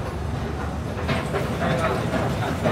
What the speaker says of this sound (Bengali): এটাই হলো সেই এমআরটি, সেই বিগ সাইজের একটা ট্রেন শহরের এক প্রান্ত থেকে অন্য প্রান্তে যাত্রী নিয়ে চলাচল করে।